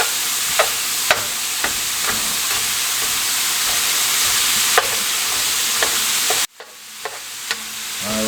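Ground beef for a poor man's Philly cheesesteak fries in a pan with a constant loud sizzle, punctuated by sharp spatula taps and scrapes as it is stirred and chopped; the sizzle drops away abruptly near the end.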